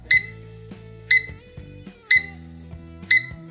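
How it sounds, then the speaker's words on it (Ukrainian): A VST-896 desk clock's electronic alarm beeps in four evenly spaced bursts about a second apart, each a bright, high tone over a soft, steady low hum. "Ось такий звук має будильник."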